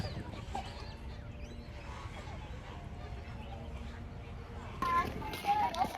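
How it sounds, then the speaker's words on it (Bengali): Ducks of various kinds at a zoo give faint, scattered quacks and clucks beneath a person talking nearby, with a few clearer calls near the end. "এখানে দেখুন বিভিন্ন রকমের হাঁস রয়েছে"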